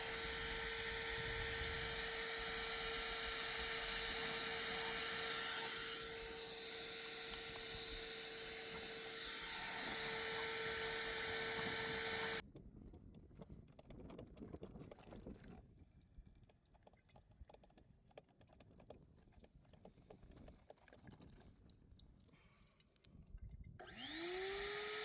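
A coffee maker percolates while running off an Aferiy P210 power station, giving a faint, uneven bubbling and gurgling hiss, with a steady whine heard earlier.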